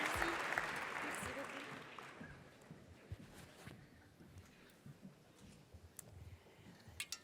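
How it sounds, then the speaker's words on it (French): An audience at the Séries Mania 2026 closing ceremony applauds for actress Manon Kneuzé. The clapping is strongest at first, then thins and fades while a voice speaks over it, with scattered sharp claps near the end. "On l'applaudit, moi je suis pour"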